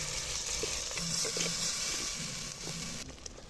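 Onion and green chili sizzle in sesame oil with fenugreek seeds, a continuous close hiss of frying broken by faint stirring scrapes, for a fish head curry.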